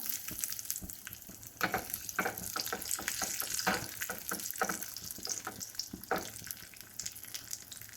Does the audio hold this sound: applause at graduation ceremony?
no